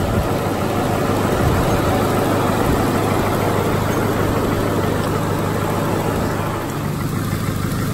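A Peugeot 206 idles with a holed exhaust, giving a steady, loud, rough engine rumble that continues without a break and fills the whole stretch up close. No one speaks.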